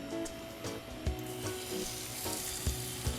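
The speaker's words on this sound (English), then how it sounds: "Hear that sizzling?" Fish sizzles loudly in melted butter in a hot pan, a dense continuous crackle with small pops and occasional soft scraping bumps.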